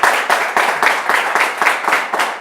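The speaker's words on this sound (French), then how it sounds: "On a des jeunes qui applaudissent" Young audience members in a television sports studio clap in a close, loud, rhythmic pattern, roughly four to five sharp beats per second in unison, with no talk over it.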